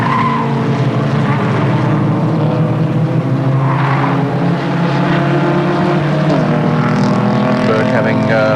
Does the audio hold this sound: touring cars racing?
yes